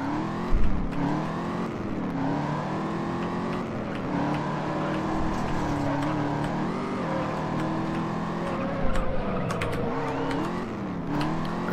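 A 1967 Ford Mustang racing engine in the video game Juiced drones steadily with rising and falling revs, holding a continuous mid-level whine that shifts pitch through gear changes.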